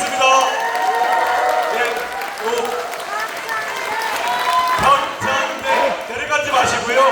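A crowd at a Korean public gathering claps vigorously, with scattered cheers and shouts mixed in, while a host keeps talking over the continuous, fairly loud applause.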